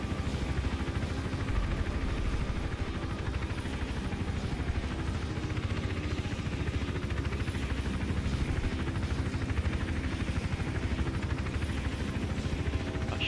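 Helicopter in the video game Hitman Absolution, a steady rotor drone with dense rumbling throughout, loud and continuous, alone without talk.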